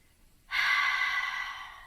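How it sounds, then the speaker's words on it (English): A deep breath exhaled through the mouth like a sigh during a yoga session: after a short silence, one long, airy, breathy whoosh that starts loud and slowly fades, heard alone and close. "inhale deeply and exhale out your mouth like a sigh"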